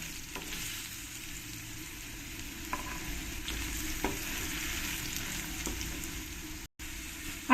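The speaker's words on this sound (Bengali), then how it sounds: "আলুগুলোকে আমি লাল লাল করে একটু ফ্রাই করে নেবো" Potatoes tossed with turmeric fry in a pan with a soft, steady sizzle, a few light stirring clicks scattered through, fairly quiet and with no voices.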